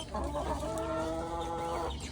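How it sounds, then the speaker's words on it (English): Backyard garden chickens waiting to be fed cluck and murmur in a steady, overlapping chorus, close by and moderately loud, with no talk. "Here are the chickens waiting for me to feed them."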